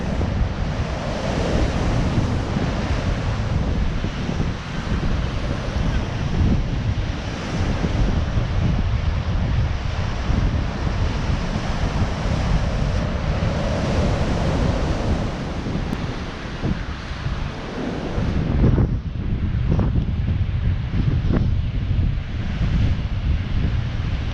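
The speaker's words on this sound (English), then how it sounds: "Really big wave coming in here." Heavy surf from a stormy sea pounds the Blackpool seafront, a steady loud wash of crashing waves and blustery wind noise that carries on without a break.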